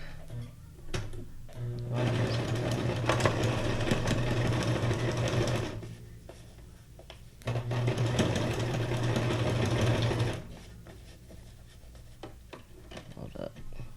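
A sewing machine stitches a zigzag across paper journal pages in two long, steady mechanical bursts separated by a pause, loud and close, with a few brief handling noises around them.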